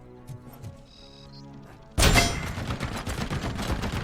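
Gunfire in the video game Robocop: Rogue City bursts in suddenly after a quiet stretch, a loud, dense volley of shots that carries on to the end.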